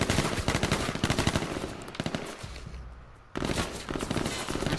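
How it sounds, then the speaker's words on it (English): Rapid bursts of gunfire, likely in a video game, hammer at a tree in fast repeated volleys, pause briefly mid-clip, then resume loud and close. "You see him just shooting the fuck out of this tree?"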